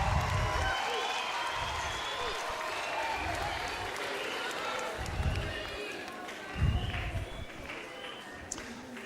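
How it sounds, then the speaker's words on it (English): An audience claps in a steady, full round of applause at a kitchen chemistry science show at Scifest Africa. The applause stays dense through the whole stretch, with a few louder swells and faint voices mixed in. "big round of applause for Jordan and Emily"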